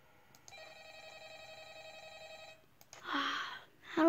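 A telephone rings in Five Nights at Freddy's: Ultimate Custom Night, a steady electronic trill holding for about two seconds before loud talking takes over.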